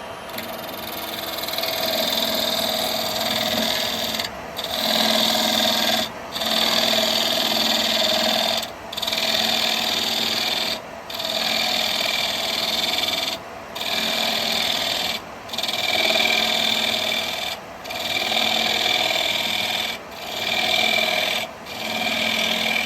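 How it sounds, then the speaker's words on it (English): A spindle gouge slices into a spinning wood blank on a lathe running around 1200 rpm, producing a steady loud rasping cut over the motor hum, broken by brief regular pauses as the tool is lifted and reapplied. "Going to use this spindle gouge."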